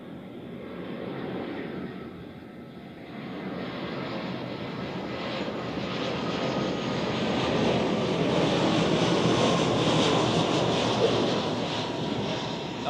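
Airliner passing at Zurich Airport on a foggy morning, a steady broad engine roar that swells gradually and stays loud throughout, with no voices.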